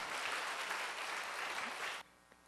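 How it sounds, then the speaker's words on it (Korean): Congregation clapping together during a Wednesday church worship service, dense steady applause from a crowd that stops abruptly after about two seconds, leaving near silence. "우리 박수로 하나님께 영광 드리겠습니다."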